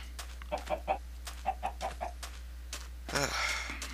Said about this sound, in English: I'm trying to produce more chickens now because I need feathers.